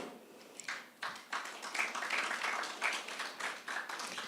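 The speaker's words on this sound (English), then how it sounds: "I don't see them, but I appreciate the clapping." Scattered, light applause from a small group at a report launch event, quiet and somewhat distant, with irregular claps over a few seconds.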